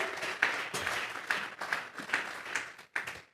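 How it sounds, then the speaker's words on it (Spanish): A church congregation claps as an offering of praise to God during a sermon, a fairly quiet, uneven patter of hand claps with a few sharper bursts. "Regálele ofrenda de palmas al Dios de la gloria."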